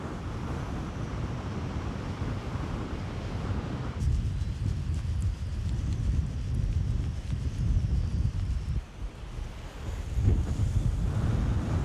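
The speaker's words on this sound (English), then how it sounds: "Really, really getting up, that wind." Strong gusty wind buffets the microphone outdoors beside water where someone is fishing, a steady low roar that surges louder around midway and again near the end, with no talk.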